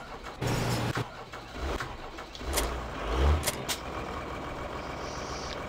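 A tractor engine drones steadily as it drives in the Farming Simulator 2013 video game, with a few louder clunks and revving swells over the constant hum and no talk.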